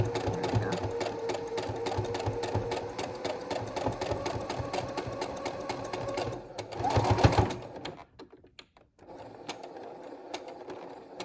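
Sewing machine stitching elastic onto a fabric face mask, running in a steady rapid rattle for about seven seconds, then stopping briefly before a quieter hum resumes.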